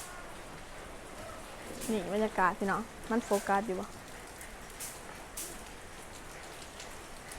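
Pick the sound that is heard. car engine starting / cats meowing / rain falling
rain falling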